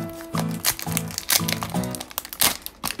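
Plastic stocking packaging crinkles and crunches as it is torn open, in several bursts of close crackling with short pauses between.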